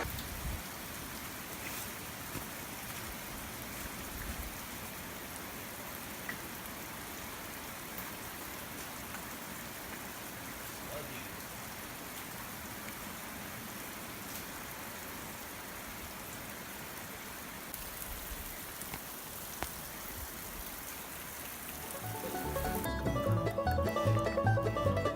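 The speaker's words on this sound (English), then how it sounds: "Sounds like it's raining." Steady rain falling through a forest in Linville Gorge Wilderness, a constant even hiss sustained for the whole stretch, swelling slightly louder near the end, with no voices.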